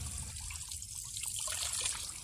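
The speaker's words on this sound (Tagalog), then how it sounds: "Nilagyan po siya ng tubo, dalayan ng tubig." Water from a well trickles out of a pipe on a farm, a steady soft splashing flow that holds on continuously with no pauses and no voices over it.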